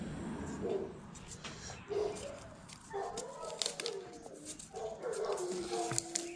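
Dogs howling and whimpering in short, rising and falling cries spread across the clip, moderately distant, under steady outdoor background noise with birdsong and a voice murmuring.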